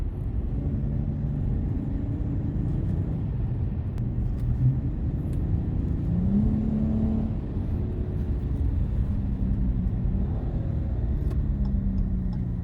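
Loud, continuous rumble of a Dodge Challenger SXT's 3.6-liter naturally aspirated V6 from inside the cabin, with the pitch rising through gears as it accelerates, and road noise underneath.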